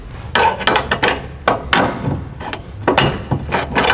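A hammer drives a bolt out of a rear suspension link on a Volkswagen/Audi MQB chassis, giving repeated sharp metallic blows in an uneven rhythm, loud and close, with no speech.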